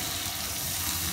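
Ginger, garlic, onion and green chili paste frying in oil for a fish korma, a steady close sizzle that holds at an even level throughout, with no voices.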